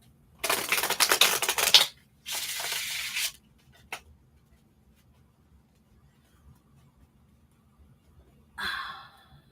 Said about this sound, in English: That was a good shuffle.